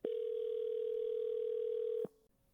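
A single steady ringback tone sounds for about two seconds on a call to a US business number, clear and close, then cuts off into faint line hiss.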